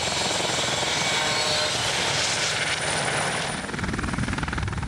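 A Eurocopter EC-120 Colibri helicopter drones loudly and close by, its rotor chopping in a continuous rapid beat for the whole stretch with no speech.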